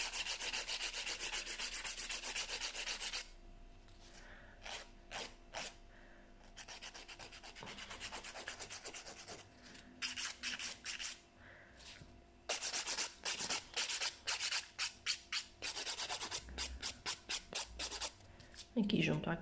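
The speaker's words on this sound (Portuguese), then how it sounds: "vou limar aqui neste lado." A nail file rasps across a polygel acrylic gel nail in quick, close back-and-forth strokes that come in repeated bursts with short pauses between them.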